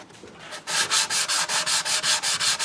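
Rhythmic back-and-forth scrubbing of a sanding block, starting after a brief quiet moment and running in about a dozen even, loud strokes, done while restoring a German mantel clock.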